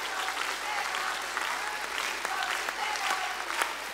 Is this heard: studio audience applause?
yes